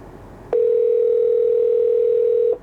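A steady single-pitch dial tone rings through the factory audio system of a 2014-2021 Lexus GX460 fitted with a 2024 GX550 interface as a mobile call goes out, starting abruptly and holding loud and unbroken for about two seconds with no talk.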